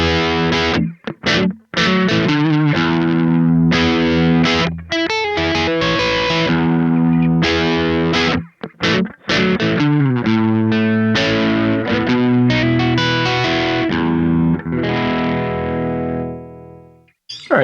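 A PRS Archon electric guitar played through a Kemper with an edge-of-breakup tone, lightly gritty chords and riffs ringing close and continuous with brief pauses, and no talking.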